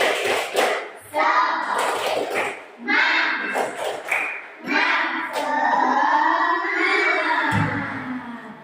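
A classroom of students in an Islamic religious education lesson does a rhythmic spirit clap, with patterned bursts of group clapping mixed with loud chanting voices, then sustained group vocalizing.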